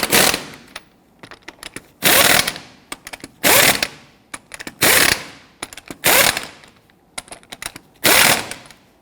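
Lug nuts on a Hummer H3 wheel are tightened with an impact tool in six loud, sharp bursts of rattling hammering, each about half a second long, evenly spaced with quiet gaps and small clicks between.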